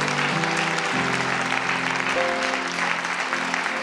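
A church congregation claps during a Sunday service while music plays, sustained applause mixed with organ-like tones at a steady level.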